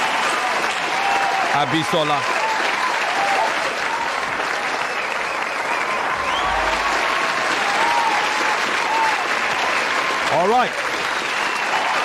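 Sustained applause from a debate audience at the close of a speech about social media and football, steady and dense throughout, with brief spoken voices over it near the start and end.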